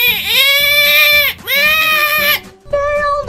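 A person vocally imitates a baby's laugh, producing two long, high, wavering squealing bursts followed by a shorter third one, loud and close with no other talk.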